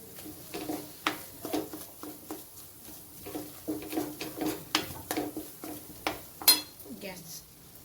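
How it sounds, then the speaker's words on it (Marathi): A spoon stirs and scrapes through a thick mawa barfi mixture in a pan, with soft repeated taps and scrapes at an uneven rhythm and someone talking over them. "चांगला व्यवस्थित सब मिक्स करून घ्यायचा"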